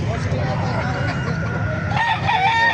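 Roosters at a crowded chicken market in Calumpit crow and cluck, a steady layer of fowl calls close by, with a louder crow rising near the end and murmured voices in the background.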